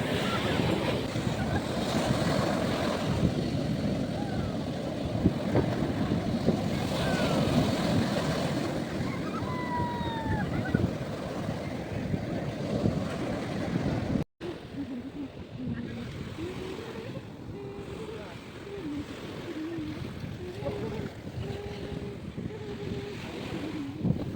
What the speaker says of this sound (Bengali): এত বড় একটা ওয়েভ এসেছে